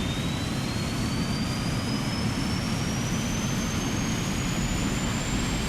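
Engine number 1 of a PMDG Boeing 777-300ER spooling up in the MSFS 2020 flight simulator: a steady, loud jet roar with a thin whine that climbs slowly in pitch, continuous with no talk.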